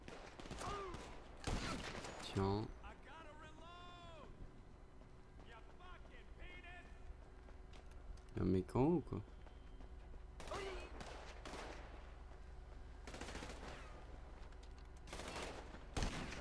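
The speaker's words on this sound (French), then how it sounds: "On tire encore dessus." Scattered bursts of gunfire ring out in GTA V, several sharp shots and short volleys spread across a quiet stretch, fairly faint, with someone talking between them and chirping electronic tones.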